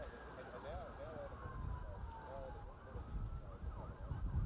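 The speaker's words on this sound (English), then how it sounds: "We obviously hear fire trucks behind you right now." Fire engine sirens wail in overlapping rising and falling sweeps at a moderate distance, responding to a February fire along Route 501 near Conway in coastal South Carolina, with low rumbling traffic and wind beneath.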